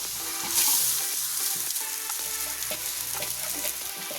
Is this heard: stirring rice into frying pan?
yes